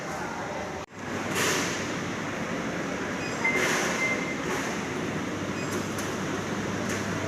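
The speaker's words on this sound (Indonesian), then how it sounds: "Keretanya udah datang ya." The KA Majapahit passenger train arrives at a station, its steady rumble and rolling rail noise filling the clip after a brief dropout, with faint squeals and some murmured voices nearby.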